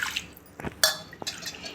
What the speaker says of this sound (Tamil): நம்ம 2 கப்பு போல் தண்ணீர் சேர்த்துக்கலாம்.